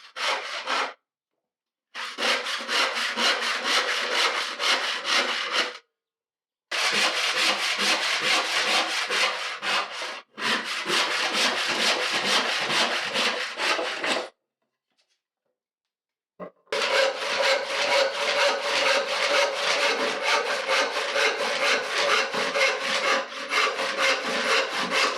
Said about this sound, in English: I first need to cross saw the boards to a rough length.